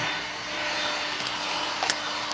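Heat gun blowing hot air while car vinyl wrap is peeled off, a continuous close whooshing hiss with small bumps and faint crackles of film pulling away.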